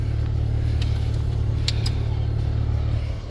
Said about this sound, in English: The blower motor's making noise. It's out of balance.